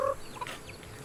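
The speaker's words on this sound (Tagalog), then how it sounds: "Daming native na manok, no?" Native chickens clucking in a short, quiet burst, with a couple of brief clucks near the start and faint background noise after.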